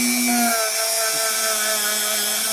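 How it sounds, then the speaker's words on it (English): A small cordless Dremel rotary tool whines steadily at high pitch, its motor tone shifting slightly as load changes, close and continuous for the whole stretch with no talk over it. "Cordless Dremel. Yeah, they're smaller, easier to work with."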